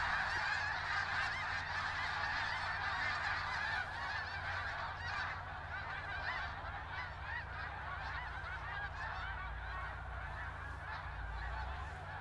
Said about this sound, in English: This has only been a week that the snow geese have really come in.